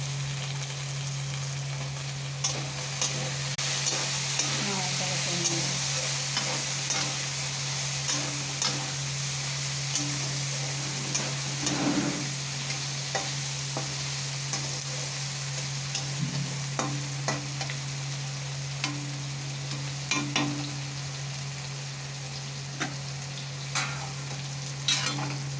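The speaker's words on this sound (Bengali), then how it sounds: "ভেন্ডি ভাজা করতে একটু নুন দিয়েছি" Salted okra and onions fry in a pan, with a continuous close sizzle broken by regular light taps and scrapes as a spoon stirs them. No talking.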